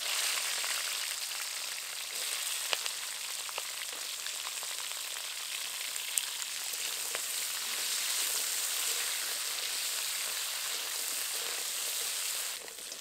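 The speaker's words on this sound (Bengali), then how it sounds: "তেল গরম হয়ে এসেছে, এবার কাঁকড়াগুলো দিয়ে ভেজে নেব।" Crabs frying in hot mustard oil in a wok give a steady, dense sizzle that runs unbroken throughout, with a few faint clicks of the pan and no voices.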